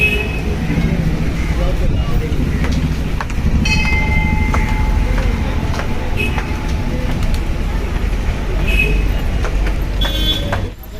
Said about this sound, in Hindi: और देखो बहुत भीड़ है रेलवे स्टेशन पे। अभी हम अपन गोरेगांव के रेलवे स्टेशन में देख सकते हो आप